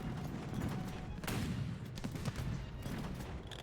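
Tank gun shots from an Italian M13/40 in a video game, heavy booming reports over a constant low engine rumble, a sharp shot standing out amid a dense noisy battlefield bed.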